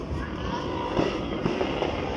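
Dense crackle of New Year fireworks going off in the distance, a steady rumbling wash with a few sharper pops, a voice faintly underneath.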